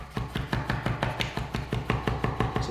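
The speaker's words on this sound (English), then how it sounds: "So keep chopping." A Chroma chef's knife chops raw steak for tartare on a cutting board, a fast, steady run of crisp, close knocks at about four to five strikes per second.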